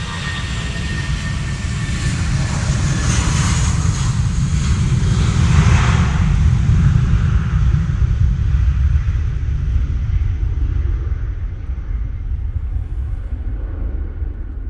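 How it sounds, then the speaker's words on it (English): A Lufthansa Airbus A321-100 departs Manchester for Frankfurt in wet, windy weather, its jet engines a loud, steady roar and rumble that builds, holds for several seconds, then slowly fades into the distance. "Lufthansa going off to Frankfurt now using their A321."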